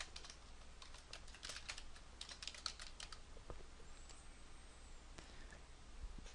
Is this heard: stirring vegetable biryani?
no